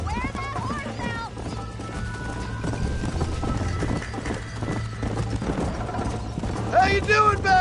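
Rapid clip-clop of a galloping horse in the video game Red Dead Redemption runs loud and near throughout, with a brief whinny and voices talking over the hoofbeats.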